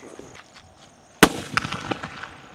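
A Godfather skyshot firework from Sivakasi explodes in one sharp, loud bang after a quiet lead-in, followed by crackling sparkle pops that fade over the next second.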